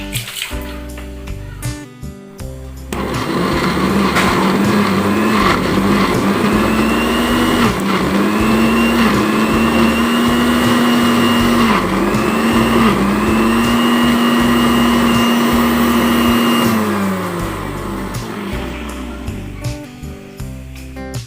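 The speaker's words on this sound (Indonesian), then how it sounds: "sekarang kita blender." An electric kitchen blender grinds shallots, candlenut, garlic and bird's-eye chilies into a spice paste for fish pepes, starting up after a few seconds and running loud and steady with a wavering motor whine for about fourteen seconds before winding down.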